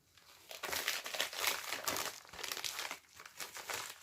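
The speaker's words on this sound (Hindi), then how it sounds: "बहुत अच्छी पैकिंग में है, तो अब इसको अनबॉक्स करते हैं।" Packaging around a Ulanzi MT-08 tripod is crinkled and torn open in quick, close, continuous rustling bursts that keep going for several seconds with brief pauses.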